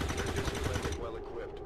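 Shotgun blasts in the tactical strategy game XCOM 2, heard as a rapid cluster of loud reports under a voice for the first second before the sound drops away into a quieter tail.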